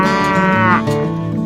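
A cow moos once, a long loud low call with a falling pitch, heard up close and alone over steady background music, as part of a freight train sequence featuring a green cattle car.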